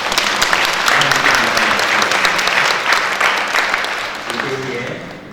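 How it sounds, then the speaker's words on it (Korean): A church congregation applauds in thanks during a worship service at an evangelism gathering, a loud, full roar of clapping from many people that slowly tapers off toward the end, with a few voices rising near the close. "섬겨주신 모든 분들에게 감사의 박수"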